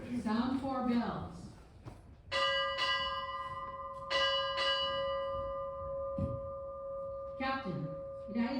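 A ship's bell rings four times at a Navy ceremony, struck in two quick pairs with long ringing decays. A voice speaks before the strikes and again after them.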